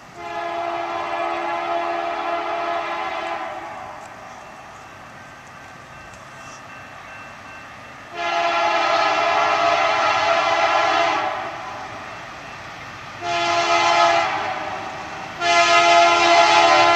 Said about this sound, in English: Here comes a westbound train.